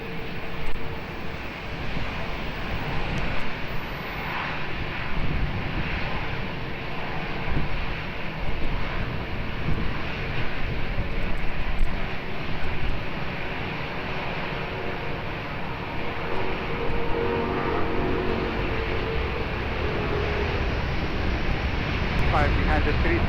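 Jet aircraft noise at Lisbon Airport, with an A330 taxiing or departing, forms a broad continuous roar heard from a distance while air traffic control radio chatter runs over it throughout.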